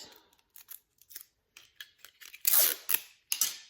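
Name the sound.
tape being applied to a package of candy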